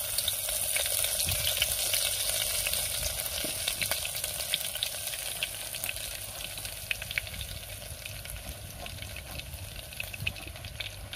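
Crushed garlic and cumin seeds fry in hot oil in a pan for a Marathi pavta (field bean) vegetable dish, giving a continuous, close, bright sizzle that holds steady throughout.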